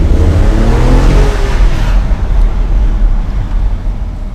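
A BMW 760Li 7-Series with a 6.0-liter V12 pulls hard in first gear, a loud, smooth, rising engine drone heard from inside the car that eases off partway through, with no talk.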